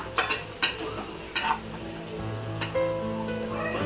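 Finely chopped garlic fries in a pan, browning with a crackly sizzle close by. Soft stirring scrapes come in short bursts under the sizzle.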